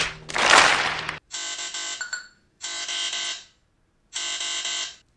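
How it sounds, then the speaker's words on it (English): A real estate lockbox powering on gives a brief noisy burst, then three steady electronic beeping tones separated by short silences, clear and close. "once it starts beeping, I put in my code that only licensed real estate agents have"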